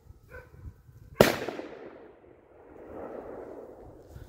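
A single sharp, loud FS3 firecracker bang from a 2021 batch, going off outdoors and echoing briefly before fading into low rumbling background noise, with no voices.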